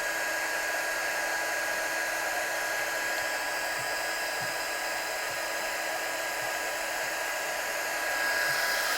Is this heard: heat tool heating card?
yes